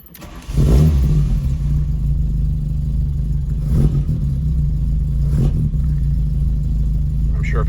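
A 1975 VW Scirocco engine with headers cranking over from a cold start on a mild day, catching within a second and settling into a loud, steady, slightly rough idle close by, with brief voices over it.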